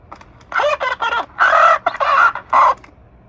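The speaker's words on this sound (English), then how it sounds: "He's this little parrot that talks." A 1963 Mattel Crackers talking parrot toy speaks a short pull-string phrase in a squawky, bird-like voice, several quick bursts over about two seconds, close and loud with no other talk.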